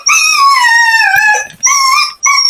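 A husky lets out a loud, close howl that wavers and slides down in pitch, breaks off briefly, then returns in two shorter howling and whimpering bursts with no talk over it.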